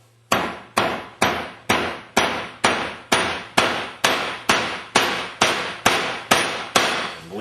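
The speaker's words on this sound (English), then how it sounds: "I'm giving it a pretty good smack" A large rubber mallet strikes the heavy metal motor case of a Meyer E-60 snow plow pump about fourteen times in a steady rhythm, each close, loud clanging smack decaying with a short ring before the next.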